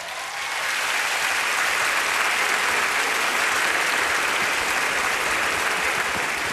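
A concert audience applauds a music director with sustained, dense clapping that rises quickly and stays steady and loud to the end.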